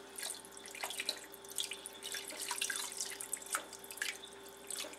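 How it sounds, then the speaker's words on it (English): Cold water running into a container of turkey brine for a whole turkey, a steady faint trickle with scattered drips and splashes, alone with no talk. "I'm going to add a little bit more cold water and then get it in the fridge"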